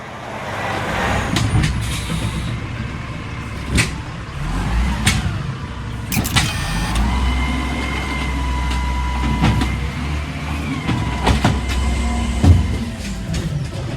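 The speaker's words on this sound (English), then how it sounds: "Then another truck comes for the bio-waste." A garbage collection truck in the video game Secret Files Sam Peters rumbles with a low engine drone, punctuated by sharp metallic clanks and thuds and a brief squeal, moderately loud, with no voices.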